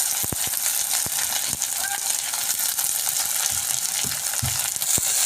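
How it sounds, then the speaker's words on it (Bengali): Chopped onion frying in hot oil with panch phoron sizzles with a steady crackling hiss, punctuated by sharp pops and a few clinks of a spoon stirring in the pan, close and moderately loud. "পেঁয়াজ কুচিটা একটু লাল লাল করে ভেজে নেব।"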